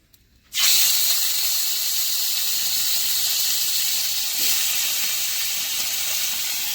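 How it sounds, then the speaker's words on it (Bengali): Strong wind picks up abruptly before a storm, a loud broad rushing hiss that starts suddenly and then blows steadily, swelling briefly midway. "এরকম মেঘ করে এসছে জোরে জোরে হাওয়া দিচ্ছে"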